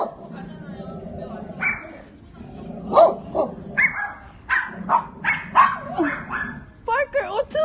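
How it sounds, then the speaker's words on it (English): A big dog barks in several short, loud bursts, mixed with yips and whimpering sounds, while people talk excitedly close by. "Kimchi, it's a big dog."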